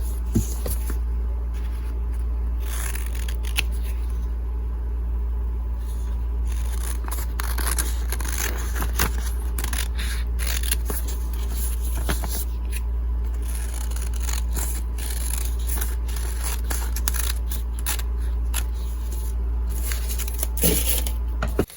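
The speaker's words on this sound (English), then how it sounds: "we're going to cut this line out" Scissors snip through fabric while a face mask is cut out, a long run of close, crisp, irregular cuts and rustles with no voices.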